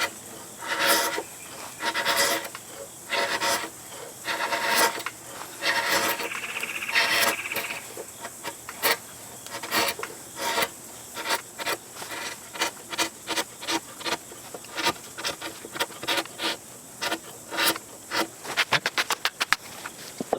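Hand tool hollowing out wood for a Japanese daimochi tsugi scarf joint, rhythmic scraping and rasping strokes repeating in bursts, close and fairly quiet, quickening into rapid short strokes toward the end.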